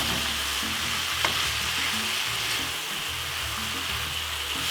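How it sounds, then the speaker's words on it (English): Mixed peppers and a medium carrot frying in a pan for Caribbean pepper steak, with a steady close sizzle and repeated scraping strokes of stirring throughout, no talking. "Give it a stir."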